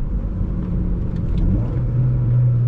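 A manual car's engine blips and rumbles through a fourth-to-third downshift with rev-matching, a steady low drone that climbs slightly in pitch near the end, heard from inside the cabin with no talking.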